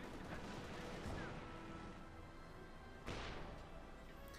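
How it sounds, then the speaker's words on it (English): A field gun fires in Company of Heroes 2, with two heavy booming shots about two seconds apart over constant battle noise. "field gun shoots, but bounces off the Panther 4's front"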